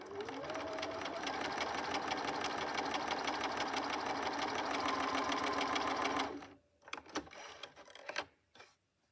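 A sewing machine runs steadily for about six seconds, stitching straight seams along the edge of the presser foot while piecing a half-square triangle quilt block, then stops, leaving a few scattered handling clicks.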